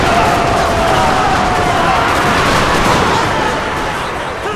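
Civil War musket volleys and artillery fire from the 1864 Battle of Franklin in Total War form a dense, loud, continuous roar of overlapping shots that eases slightly toward the end.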